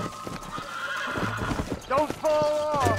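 Two horses whinny and clop their hooves nearby, with hoof clip-clops tapping irregularly and several rising-falling neighs rippling out loudly toward the end.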